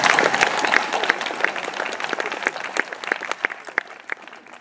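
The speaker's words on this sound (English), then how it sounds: "we can clap. Let's clap." An audience at a Washington University School of Law farewell address claps, starting as dense applause and thinning into scattered individual claps that fade out over several seconds.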